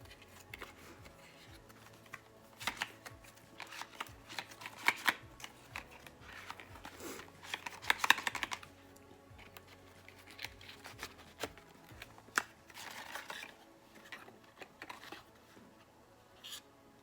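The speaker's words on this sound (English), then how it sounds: "So as I'm ripping into the box" A cardboard subscription box is ripped open up close, giving scattered crackling tears and papery rustles in uneven bursts, with no talking.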